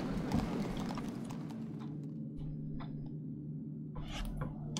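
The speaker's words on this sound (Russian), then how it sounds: "Летающие лошади, пегасы," Hooves of flying horses (pegasi) in the strategy game Survival Chaos give a steady, even clip-clop across several seconds, sitting over a constant low game background with a few short sharp effects near the end.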